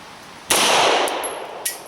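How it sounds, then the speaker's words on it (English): A single sharp crack from a Beretta M9 pistol fired outdoors at a target about eight yards away, followed by a decaying ring and a faint second impact or echo. "I took 5 single double action shots at our target out there, which is about 8 yards"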